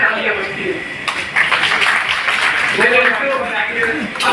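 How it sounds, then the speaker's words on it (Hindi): Audience applause at a political event in Meerut marking eleven years of the Modi government, a dense clapping wash that swells after the first second and continues steadily with voices mixed in. "उनके लिए आपकी तालियां बजती है।"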